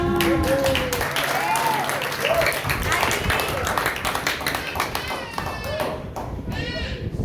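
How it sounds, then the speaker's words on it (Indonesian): Crowd clapping at a New Year church celebration, steady applause spread across the room, with a voice speaking over it and light taps and pings scattered throughout. "Sekali lagi berikan tepuk tangan buat kaum wanita."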